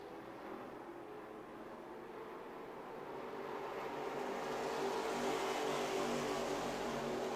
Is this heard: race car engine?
yes